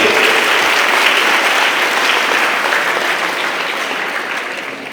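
An auditorium audience gives a sustained round of clapping at a student awards felicitation in Muvattupuzha, dense and loud throughout and slowly easing off toward the end, with no voices over it.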